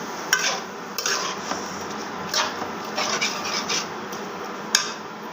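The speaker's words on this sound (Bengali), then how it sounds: "আমি একটু ভেজে নেব পাতাকপিটা ভালো করে।" Shredded cabbage stir-fried in a pan for a cabbage and egg dish, with steady scraping and rubbing of a spatula punctuated by occasional sharp metallic clinks, all fairly quiet and close.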